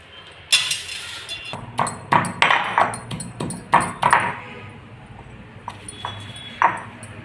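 Rhythmic pounding of spices in a mortar and pestle on a road, a series of sharp thuds and clinks at an uneven pace, then a few scattered strikes after a pause.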